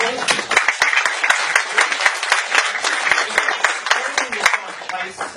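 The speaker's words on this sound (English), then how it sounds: "Round of applause." An audience at a property information night gives a round of applause, dense continuous clapping from a moderate crowd lasting several seconds, close and fairly loud.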